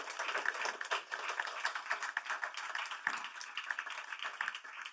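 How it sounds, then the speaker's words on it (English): A conference audience applauding a panel, a dense, steady patter of many hands clapping at moderate distance for several seconds. "give a round of applause to our panel"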